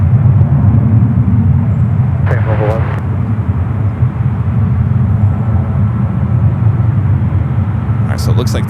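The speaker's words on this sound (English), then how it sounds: "it looks like the Dreamliner heading to Singapore, heading over to 28 right" A Boeing 787 Dreamliner bound for Singapore rumbles steadily at an airport, a broad continuous jet roar that holds throughout, with a few brief clicks and knocks over it.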